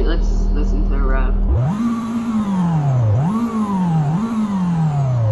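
A big-turbo car engine in the Roblox Greenville video game revs up from a low idle and climbs three times in rising, falling sweeps, loud and close, with a whine riding on top.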